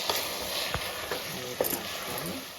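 Broad bean and potato curry with water simmering in a frying pan while being stirred, a soft sizzle under scraping utensil strokes and a few light knocks against the pan.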